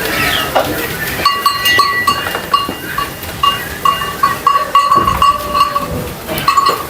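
Goats, including a white milk goat, bleat repeatedly on a farm, loud and close, with several overlapping calls over a dense background.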